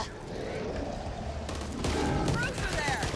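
Gunfire rattles through a Back 4 Blood match with friendly fire switched on, rapid shots running continuously under game noise and a voice talking, growing louder and busier in the last second.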